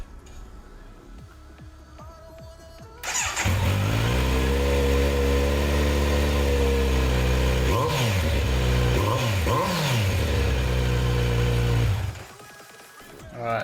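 A Kawasaki Z900 motorcycle engine with its exhaust removed starts with a bang, then idles loudly and harshly, blipping into several sharp revs before cutting off abruptly.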